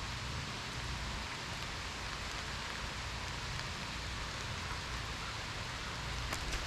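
Steady rain falls during a fishing outing, a dense, even hiss of drops that holds constant throughout without any voices.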